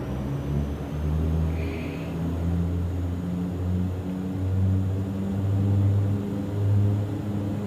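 FlyJSim Q4XP Dash 8 turboprop in X-Plane 12 spooling up to takeoff power, a loud, steady propeller drone with a pulsing low hum that swells and wavers throughout.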